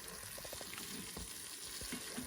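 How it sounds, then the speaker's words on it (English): Garlic sautéing in an Instant Pot while being stirred, a soft continuous sizzle with faint scraping and tapping under it, quiet and close. "now I'm just going to stir up the garlic, get it infused with all the flavors"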